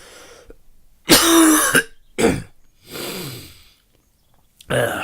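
Harsh, loud coughing fits close to the mic, two or three bursts separated by short pauses, ending with a heavy breath.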